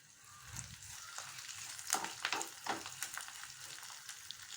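A sprig of curry leaves hits a hot tempering of browned garlic and crackles with quick, irregular pops over a soft background sizzle. The sound is moderately quiet, with no talking.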